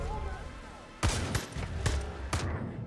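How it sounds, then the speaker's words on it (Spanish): Gunfire at padlocks in Far Cry New Dawn: four sharp, close gunshots in an uneven sequence, the first loudest, following a quieter stretch of game sound. "Dispara los candados."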